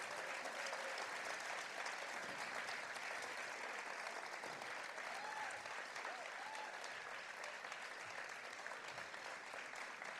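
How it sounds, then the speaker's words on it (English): Sustained applause from an audience at a high school senior awards night, a dense steady wash of clapping for the winners that carries evenly through the whole stretch, with a few faint voices rising above it. "A final applause for all of them, please"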